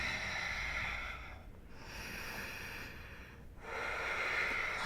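Slow, forceful breaths during a yoga exercise sit close and audible. Long airy inhales and exhales run in a steady rhythm, with two brief pauses between breaths and no talking.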